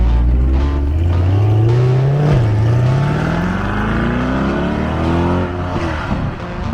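A 1970 trophy-car dune buggy engine runs loud and close, holding a steady throaty drone that climbs in pitch, dips briefly, then rises again before settling near the end.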